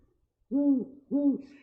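Two deep, resonant hoots from a captive great horned owl, close and clear, evenly spaced with a short pause between them against a quiet background.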